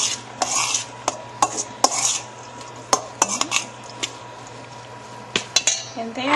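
Salmon cake ingredients are mixed in a bowl, producing a series of close, sharp clinks and scrapes of a utensil against the bowl in an uneven rhythm over a low background hum.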